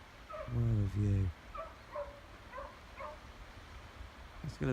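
A dog gives two loud, close barks, then several fainter distant yips and calls follow before another sharp bark at the very end, heard outdoors on a hillside walk.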